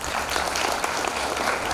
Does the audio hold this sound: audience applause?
yes